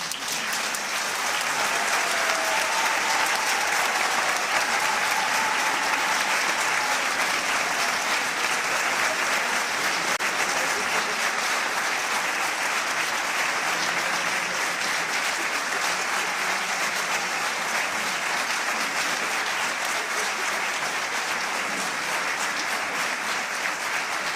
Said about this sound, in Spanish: Lo único que os pido, por favor, que les aplaudáis a rabiar porque se lo merecen.